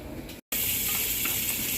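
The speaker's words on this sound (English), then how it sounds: "we are sauteing down those onions in that bacon grease" Onions sauteing in bacon grease for a steak roll filling, a steady close sizzle and hiss filling the pan with a brief drop to silence partway through.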